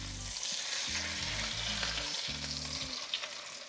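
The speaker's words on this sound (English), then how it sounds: "do these 2 at a time as we get them seared off" Turkey legs sear in a hot pan, giving a dense, steady sizzle and crackle that stays loud and close throughout, with a low tonal hum beneath and no talking.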